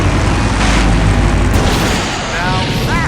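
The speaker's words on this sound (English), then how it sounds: "Now that's an explosion, ladies and gentlemen." A loud, sustained explosion roar from the Full Throttle Remastered video game, a dense rumbling blast filling the whole clip with heavy low-end booming throughout.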